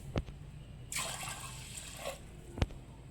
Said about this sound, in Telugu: ఇందులో రెండు గ్లాసులు వాటర్ వేసుకోవాలి